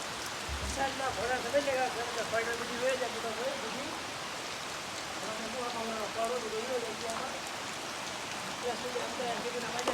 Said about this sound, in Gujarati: સિઝનનો પહેલો વરસાદ આવી ગયો છે.